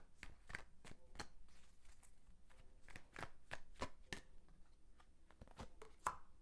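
Guidance cards shuffled close up as a sparse series of separate snapping flicks with short gaps between them, quiet and alone over a low room hiss.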